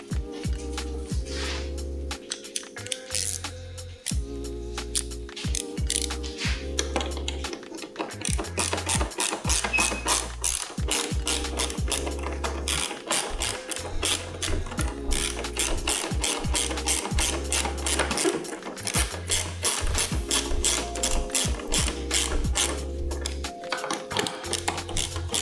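A ratchet tightening the mirror mount bolts on a 2024 Honda Goldwing gives rapid, close clicking in long continuous runs with brief pauses, steady and fairly loud throughout, no voices.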